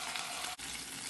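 Garlic sizzles loudly in hot oil in a pan for Korean-sauce lotus noodles, a steady close hiss that holds throughout with one brief dip midway.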